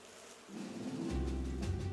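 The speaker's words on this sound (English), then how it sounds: "The loud noise woke up the bees inside the hive." Bees inside a hive start buzzing in a short storybook sound effect. A low drone swells quickly and then holds as a loud, steady buzz.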